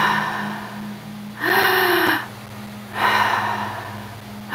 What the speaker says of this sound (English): And we'll gasp 3 times.